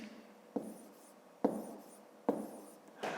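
Pen strokes as numbers are written by hand during a fifth-grade multiplication exercise, four short scratchy bursts roughly a second apart, close and quiet with no talking.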